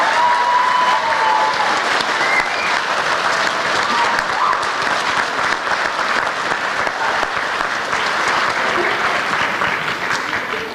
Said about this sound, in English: Why don't we give all our performers one more round of applause for their performance tonight?